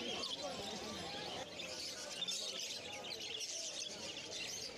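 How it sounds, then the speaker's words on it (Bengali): Caged white Java sparrows chirp at a busy Kolkata street bird market, a dense chorus of high twittering calls mixed with other market birds, steady under a man's speech. "এই খাঁচাটার মধ্যে কিছু হোয়াইট জাবা স্প্যারো আছে"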